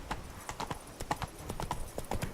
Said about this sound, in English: Even a horse drops if you ride it at a constant gallop.